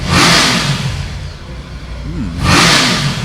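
A 2020 Triumph Tiger 900 motorcycle engine revs up twice, with loud surging bursts at the start and end and a lower idle between them, close by and heard alone.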